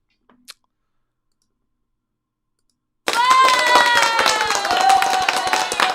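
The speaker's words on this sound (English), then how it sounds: "Let's give you a little round of applause." A small round of applause for a viewer: near silence with a faint tick, then sudden dense clapping and clicking that starts abruptly midway and continues steadily to the end.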